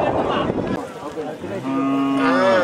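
A bull at a manjuvirattu bull-taming event gives a long, loud, rising moo, preceded by a noisy burst of crowd sound at close range.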